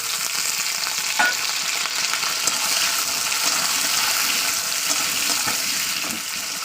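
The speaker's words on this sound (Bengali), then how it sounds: "আলুটা দিয়ে দিচ্ছি" Potato pieces fry in hot oil, giving a loud, continuous close-up sizzle with faint stirring taps now and then.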